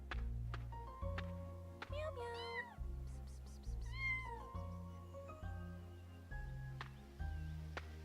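Repeated cat meows from a pet cat in the video game Mesmer, several distinct mews sounding over steady game music with a low pulsing beat.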